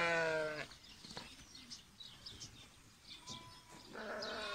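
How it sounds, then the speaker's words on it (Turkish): Sheep and lambs being reunited on a farm bleat loudly, with a long close bleat at the start, quieter calls and bird chirps in between, and another bleat at the end. "koyunlarla kuzuların buluşmasını göstereceğiz."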